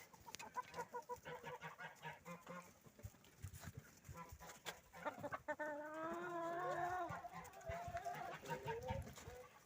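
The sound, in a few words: chickens clucking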